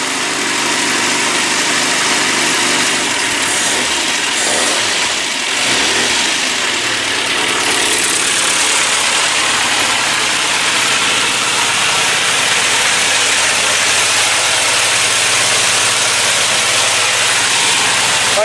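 A classic Mini 1293 race engine idles on choke while warming up, a loud steady rumbling drone with slight unevenness throughout, close by.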